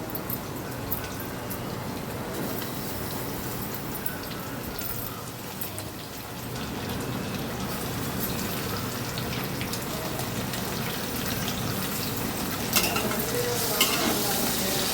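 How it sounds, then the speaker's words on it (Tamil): Tomatoes saute in a hot pan with a dense, continuous sizzle and crackle that stays loud and even throughout, occasionally stirred, with no voices over it. "தக்காளி ஆட் பண்ணி இன்னும் நல்லா வதக்கணும்."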